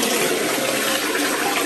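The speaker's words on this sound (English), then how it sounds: "Flush the toilets." A toilet flushes during a house inspection in Arzachena, Sardinia, a loud, steady close-up rush of water filling the whole short stretch.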